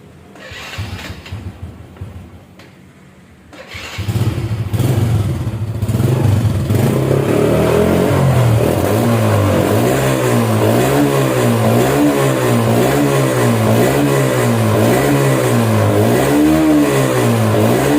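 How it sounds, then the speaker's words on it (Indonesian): A restored Honda Supra Fit motorcycle engine, freshly valve-adjusted, cranks briefly, then catches and runs loudly up close, settling into a rhythmic, pulsing idle with repeated rises and falls in revs. "Sekarang kita coba tes nyala ya."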